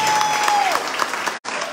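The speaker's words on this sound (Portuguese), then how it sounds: "Uma salva de palmas aqui para o Amaral Neto." Crowd applause at an outdoor political campaign rally for a state deputy candidate, loud and steady with overlapping claps and a whistle, breaking off abruptly near the end before resuming.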